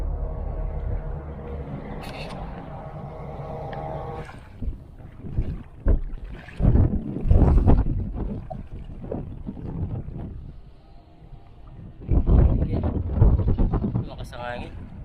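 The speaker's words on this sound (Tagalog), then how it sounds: "Lakas ang hangin." Strong wind gusting over a small fishing boat at sea, buffeting the microphone in heavy bursts, with people talking close by.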